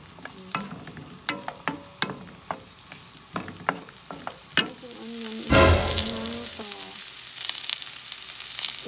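Onion frying in olive oil in a pan, with a loud burst of sizzling as it goes in, then steady crackle under intermittent stirring clicks from a utensil against the pan.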